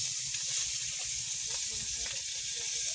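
Steady, close sizzling of fish frying in hot oil, a continuous bright crackling hiss with faint pops throughout.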